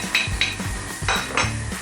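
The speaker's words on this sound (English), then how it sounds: "So we start by putting in the shallot" Shallots go into a pan as a saffron sauce for scallops is started, with the clatter of metal cookware and utensils knocking. There are several distinct clinks and scrapes close by and no talk.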